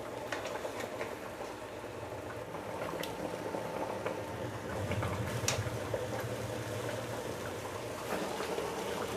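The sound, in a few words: salmon head miso sinigang broth boiling in pot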